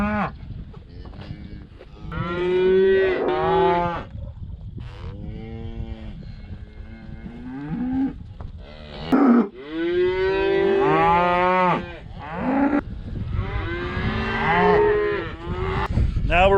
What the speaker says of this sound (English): I think we're gonna let these cattle out.